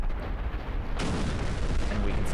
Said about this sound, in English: we can see that was a much more major explosion